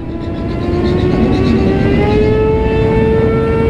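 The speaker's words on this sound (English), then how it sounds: "They doing burnouts" Motorcycles doing burnouts at a street-riding event in Houston, with a loud sustained engine roar whose pitch climbs steadily as the revs rise, close by.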